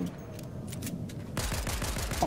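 Rapid bursts of gunfire from a weapon with explosive rounds in the video game Fortnite, starting about halfway through as a dense, loud rattling volley after quieter ambient game sound.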